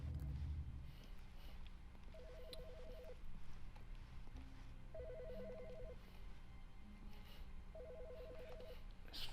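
Office desk telephone ringing in The Stanley Parable, three evenly spaced electronic trilling rings, each about a second long, faint over a low background hum.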